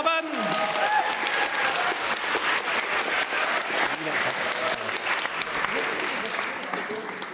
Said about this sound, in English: Big round of applause for Robin.